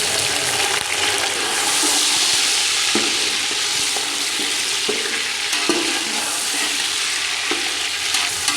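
Chicken pieces fry loudly in a pan with browned onions, a constant close sizzle broken by scraping stirs every second or so, with no talking.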